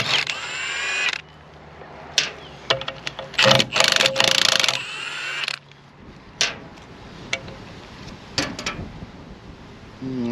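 A power tool gun loosening bolts during engine disassembly whirs and rattles in short loud bursts, with clicks and metallic clanks between them and a low hum underneath.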